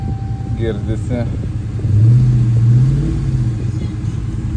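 A car engine revs up at an auto auction, rising in a strong swell midway and then easing back, close and loud, with voices briefly audible in the background early on.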